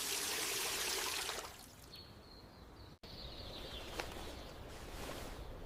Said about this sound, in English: I turn on the faucet.